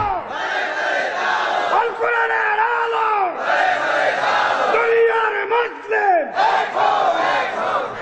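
A large crowd at a religious gathering shouts Allahu Akbar together in loud, ringing unison, answering a takbir call in repeated bursts.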